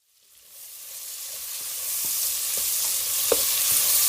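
Pork intestines frying in a pan with soy sauce and oyster sauce, a loud hiss and sizzle that builds up and stays steady, broken by a few soft scrapes and clacks of stirring.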